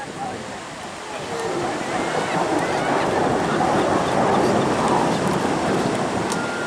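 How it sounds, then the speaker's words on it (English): Mikoyan-Gurevich MiG-17 jet with its afterburner lit at the Blackpool Airshow, a steady broadband roar building slightly and holding, distant and wind-buffeted. "Introduce the afterburning engine on the MiG-17, and that's just basically dumping a load of fuel into the exhaust pipe."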